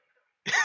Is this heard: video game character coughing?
yes